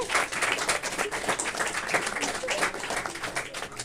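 A room of students claps loudly and unevenly for a classmate, a dense patter of hand claps mixed with some voices.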